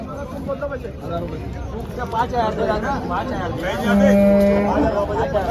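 Cows, HF and Jersey, moo repeatedly amid a busy Chalisgaon cattle market crowd, with people talking and babbling in the background; one long, loud low moo stands out near the end.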